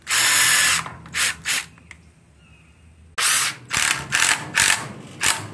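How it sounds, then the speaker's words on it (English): Power drill boring pilot holes into a wooden board for a chainsaw holder on a wood wagon, heard as a loud sustained run, a pause, then several short bursts of drilling. "I pre-drill my holes so it don't split the board"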